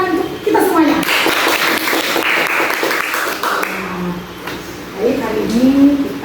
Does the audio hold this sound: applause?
yes